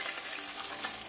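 Rice frying in hot oil in a pan gives a continuous dense sizzle, close and steady, with no voices.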